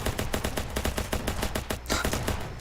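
Rapid automatic gunfire in Ancient Warfare 3, a fast rhythmic stream of sharp shots repeating evenly throughout, fairly faint and continuous.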